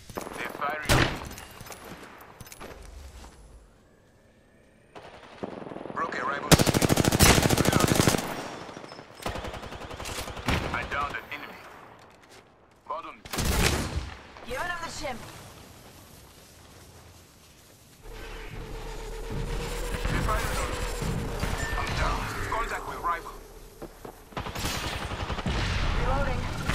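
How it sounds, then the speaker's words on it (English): Enemy gunfire in the Apex Legends video game, bursts of rapid automatic shots in several loud clusters separated by quieter gaps, with game voice callouts and other effects in between. "Enemy spotted far. They're firing."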